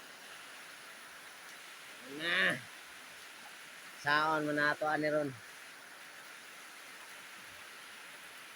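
Rain falls steadily outside as an unbroken, even hiss that runs throughout, while a person speaks a few short phrases over it.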